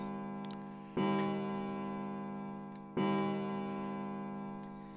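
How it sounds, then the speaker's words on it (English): A deep clock bell from the main stairway in the video game 999 strikes twice, about two seconds apart, each rich ringing tone slowly fading under a faint ticking. "A bell. It sounds like the clock in the main stairway."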